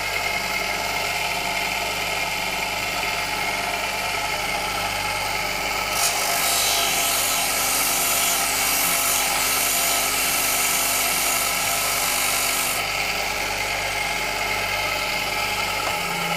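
Continuous rasping of a homemade sanding tool worked against wood, steady and close, with a brighter, harsher stretch in the middle before easing back to the same even grinding; no talking.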